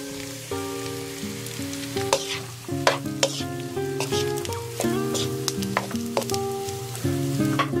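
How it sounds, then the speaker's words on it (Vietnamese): Cooked rice stir-frying over medium heat in oil with fried shallots and garlic, crackling and sizzling steadily up close while a utensil clinks and scrapes against the pan in an uneven rhythm. "Rồi mình cho cơm vào chiên với lửa vừa."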